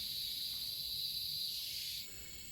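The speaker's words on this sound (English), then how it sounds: "the ceaseless trill of cicadas" Cicadas trilling in humid Bornean jungle on a mid-afternoon, a dense continuous high buzz that holds steady and then shifts to a quieter, thinner tone near the end, no voices.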